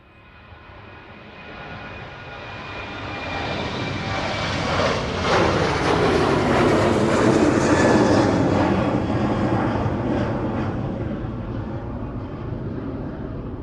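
Boeing 737-800 jet climbing away from East Midlands Airport in the evening, a roar that swells from quiet to loud over several seconds, with a descending pitch sweep as it passes overhead, then slowly fades.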